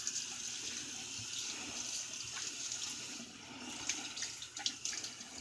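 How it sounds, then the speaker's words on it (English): Running tap water splashes steadily over a shaving brush being rinsed at a sink, a continuous close hiss and patter with a few sharper splashes toward the end. "Let me rinse this thing clean."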